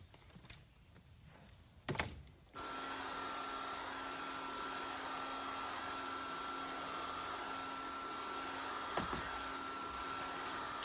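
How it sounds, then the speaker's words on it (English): An intelligent domestic vacuum cleaner (a Hoover) starts after a couple of faint knocks, then runs as a steady loud whine and airflow roar, close and constant, with no talking. "Your Hoover's on the rampage, then."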